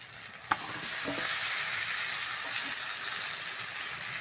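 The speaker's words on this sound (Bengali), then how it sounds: "আলু দিয়ে ভালো করে কষে নেবো" Potatoes frying in a pan for a Bengali fish curry, a steady close hiss of sizzling oil with a sharp click near the start and faint stirring scrapes.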